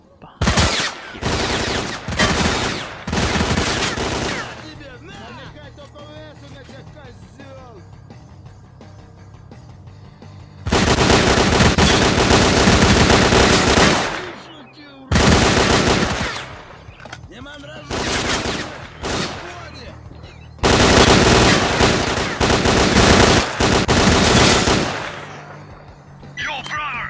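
Gunfire in the video game S.T.A.L.K.E.R.: Clear Sky comes in loud, repeated bursts of automatic weapon fire and single shots, some long sustained volleys, with quieter ambient stretches between them.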